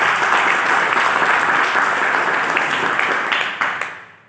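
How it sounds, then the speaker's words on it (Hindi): Loud, dense applause from an audience at a gathering honouring a guide figure, steady and sustained for several seconds before tapering off abruptly near the end. "एक बार उनके लिए भी जोरदार तालियां चाहिए मिस्टर भूपेंद्र सर के लिए"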